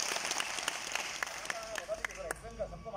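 Applause and clapping from an audience of workers at a company building-products quiz, a broad clatter of hands with someone talking over it.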